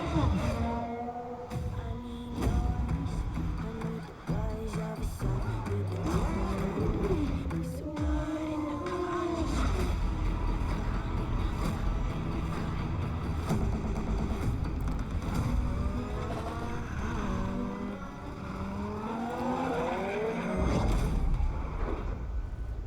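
Race car engines roaring and revving in a Forza 7 racing game trailer, a loud continuous drone with rising and falling gear pitches and sweeping passes, backed by music and occasional voices.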